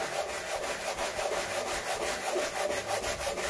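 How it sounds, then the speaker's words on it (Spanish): Sanding a dried, stenciled vintage bathroom basket by hand, a steady scratchy rubbing that keeps a continuous rhythm, close and moderately quiet, with no talk. "lo que sí hago es lijar un poco"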